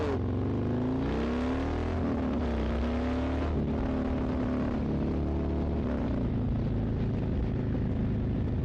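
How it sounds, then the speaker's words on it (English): A Harley-Davidson Road Glide ST with a Milwaukee 8 V-twin pulls hard through the gears, its deep engine note rising and dropping with each shift, loud and close with no talk. "I just love the way this bike pulls, the torque."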